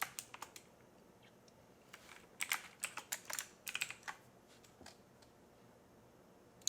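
Quiet typing on a computer keyboard while writing Kotlin code, irregular clusters of soft clicks with short pauses, close and alone.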